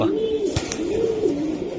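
Pakistani and high-flying Giribaz pigeons coo softly in two rolling phrases, with a brief clatter partway through.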